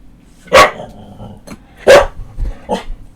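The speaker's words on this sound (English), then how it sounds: "don't mind that, that's my dog." A dog barks loudly twice in sharp bursts about a second apart, followed by a quieter third bark, during a casual podcast recording indoors.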